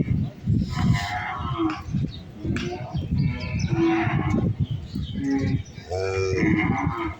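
Cattle lowing at a crowded Eid cattle market in a village bazaar, with repeated close moos and overlapping calls rising over a steady background of people talking throughout.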